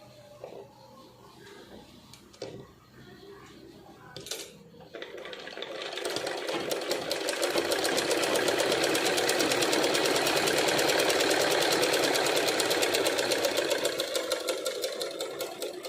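A sewing machine stitches the border onto a silk skirt, starting after a few quiet handling clicks and then running in a steady, fast, close mechanical whir to the end.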